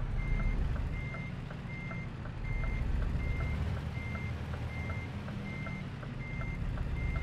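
A Scania truck in Euro Truck Simulator 2 reverses with an evenly spaced, high beeping that repeats about twice a second. It sits over a loud, low engine rumble, and no one speaks.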